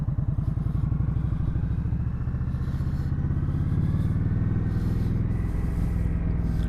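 An Indian motorcycle engine runs while riding, a close, loud, low throbbing rumble with a steady pulsing beat and a slight shift in pitch partway through, heard alone without talk.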